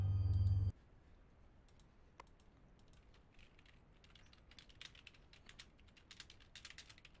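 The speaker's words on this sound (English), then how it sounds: "You guys hear me typing?" Quiet keyboard typing, irregular soft clicks of keys pressed in bursts, close but faint, after a short loud hum at the start.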